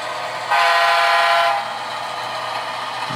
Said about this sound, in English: Give the tanker facility a little honk there as we go by.